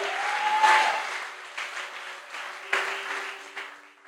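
A church congregation applauds during a sermon, a fairly loud wash of clapping that swells and fades in waves, with a sustained musical tone underneath.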